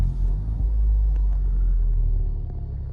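A Ford Focus Mk3 engine starts up, a heavy low rumble that settles into a steady idle, close and loud with no talking.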